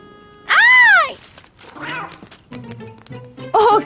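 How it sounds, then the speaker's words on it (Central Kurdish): A cartoon cat meows once, loud and close, with a rising then falling wail, followed by softer character voices and a second short meow at the end. "ئۆ کایۆ، ئەو پشیلەکەی سارایە"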